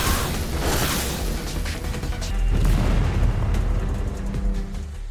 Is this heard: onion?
no